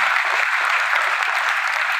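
Seminar audience in Sultanpur bursts into dense, steady applause, many hands clapping loudly and continuously with no break.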